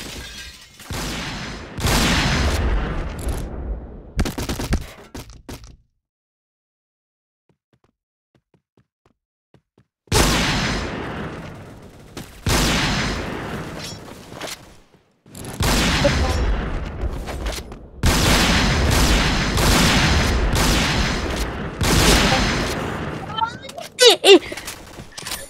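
Gunfire in the online shooter Point Blank comes in rapid bursts of sharp shots, separated by a silent pause of several seconds in the middle, with players talking over it.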